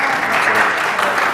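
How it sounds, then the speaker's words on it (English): An audience claps steadily in a dense, close wash of applause, brief and loud, without pause. "y'all are clapping it up for her"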